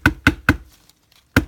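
A lipstick tube slammed against a hard surface: three quick sharp knocks in a steady rhythm, a pause with faint rattles, then one more loud knock, close and with no talking.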